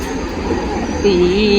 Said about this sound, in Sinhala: ඔන්න ඉතින් අපි බලන් හිටපු අපේ ට්‍රේන් එක ආවා